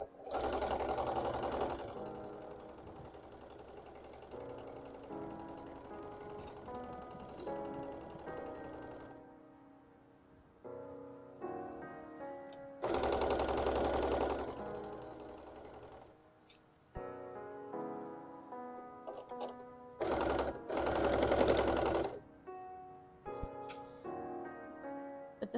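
A sewing machine stitches a Pokemon hat in several whirring runs of rapid mechanical stitching, separated by short pauses and quieter handling, close and steady.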